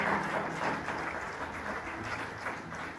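A church congregation applauds, a soft, steady wash of many hands clapping that fades slightly over a few seconds, with no clear speech.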